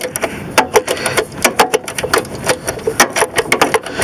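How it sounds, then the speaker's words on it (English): A 7mm socket ratchet removes a bolt on the negative battery cable of a 1988 Ford Bronco II, giving rapid, steady mechanical ratcheting clicks up close with no talking. "Just gotta take this bolt out."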